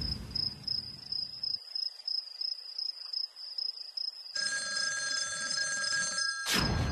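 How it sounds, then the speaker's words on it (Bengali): A telephone rings in a Bangla superhero cartoon, a bright electronic trill that cuts in after a quiet stretch of night insect chirps, clear and close with no talk over it. "এখন আবার কে ফোন করলো?"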